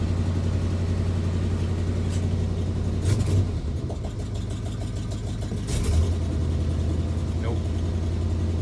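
A 1988 Chevy R30 truck engine runs steadily after a cold start on old gasoline, a close, low, droning idle with slight swells, joined by a brief spoken word.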